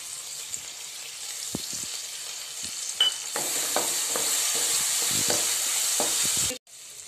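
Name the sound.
soaked moong dal frying and stirred in a pan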